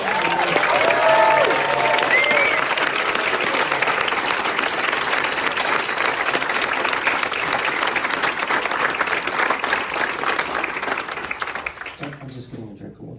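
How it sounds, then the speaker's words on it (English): An audience at an awards ceremony gives a long, loud round of dense, sustained applause that fades away at the end, with a voice speaking briefly near the start. "please, another huge round of applause for all of"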